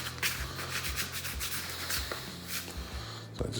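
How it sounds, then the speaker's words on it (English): Sourdough bread dough being lifted with a hand and a scraper: a soft, close rubbing and scraping over a floured surface with a few brief scuffs, quiet and with no talking. "So I just take my hand like this and scraper, get up underneath it, like that."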